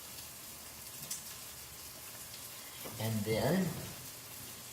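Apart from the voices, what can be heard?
omelet sizzling in pan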